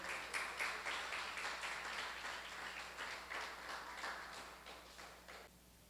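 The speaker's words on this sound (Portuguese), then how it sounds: "Vamos aplaudir Jesus." A church congregation applauds together in sustained, rhythmic clapping that stays fairly even for several seconds before trailing off, heard from a moderate distance with no speech.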